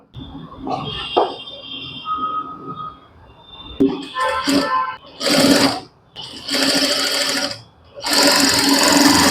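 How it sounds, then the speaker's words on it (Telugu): An overlock sewing machine stitches dress fabric in loud bursts of rapid whirring, with pauses between runs that grow longer toward the end. Before the stitching starts there is quieter handling of cloth and some talk. "చూసారు కదా ఓవర్లాక్ అనేది చేసేసరికల్లా బ్యాక్ సైడ్ కూడా నీట్గా చేస్తుంది"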